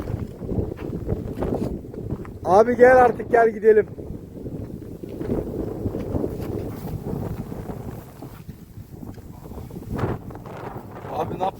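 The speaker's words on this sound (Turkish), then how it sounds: "Rüzgar da fena ama." Strong outdoor wind roars and buffets the microphone in a continuous low rush, with someone talking over it and a brief tonal burst partway through.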